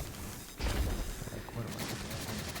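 Bursts of gunfire from the video game Destiny 2, a loud onset about half a second in followed by sustained rapid shots and impacts in a dense game soundscape, with some talk mixed in.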